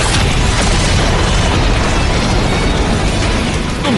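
A Beetle Cannon weapon blast in the Power Rangers Samurai series: a loud, unbroken roaring explosion that fills the whole stretch at constant high intensity, with no speech over it.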